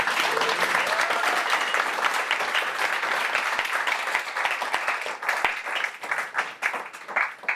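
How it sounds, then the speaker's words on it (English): At a fireside chat on product culture in London, an audience breaks into warm applause that thins toward the end into scattered individual claps. "Let's give a round of applause for Gadi"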